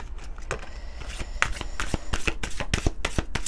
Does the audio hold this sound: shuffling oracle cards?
yes